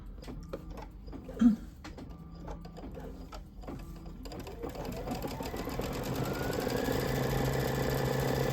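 An embroidery machine starts up and stitches white thread through fabric stretched in a quilting hoop, moving from scattered ticks and clicks into a steady, rising mechanical whir with a rapid needle rhythm, close and moderately quiet.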